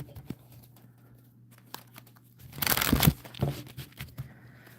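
Tarot cards being shuffled hard, a burst of crisp riffling and crinkling after light handling taps, close and fairly loud over a faint hum.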